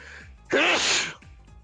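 A single sharp sneeze bursts out close by, loud and broadband, lasting about half a second, with quieter voices murmuring before and after.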